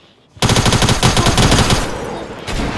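Tactical submachine gun fire in Fortnite: a sudden burst of rapid automatic shots, loud and close, that runs for about a second and a half and then thins out.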